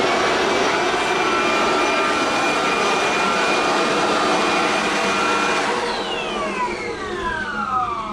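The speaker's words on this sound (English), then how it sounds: "This is the blower, and it uses the 60-volt batteries" A battery-powered 60-volt leaf blower roars with a loud, high-pitched whine, then its motor pitch sweeps downward as it winds down near the end.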